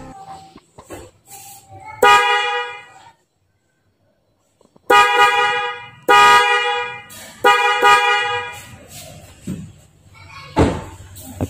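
Loud aftermarket car horn on a Daihatsu Rocky, sounding in several sharp blasts of varying length with a short silent gap, close by and alone.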